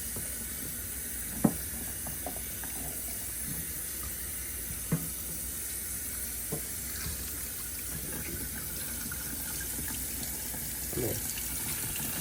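Tap water runs steadily into a sink while a raw holiday turkey is rinsed and checked for feathers, a constant hiss broken by a few soft knocks and splashes as the bird is handled.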